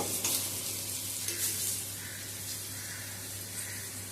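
Ridge gourd fritters fry in hot mustard oil, giving off a steady, close hiss of bubbling oil across the whole stretch, with no voices.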